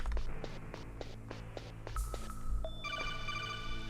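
Codec call ringing in the video game Metal Gear Solid: a repeating electronic tone pattern pulses steadily at moderate level, followed by brighter beeping tones, with game sounds underneath.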